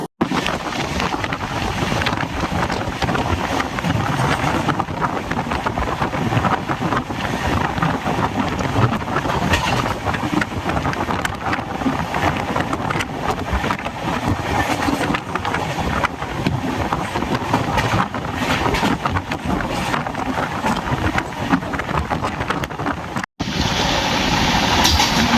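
The 12621 Tamil Nadu Superfast Express runs nonstop between Chennai and New Delhi, giving a loud, steady rumble and rushing wind noise that continue unbroken, with a brief dropout near the end.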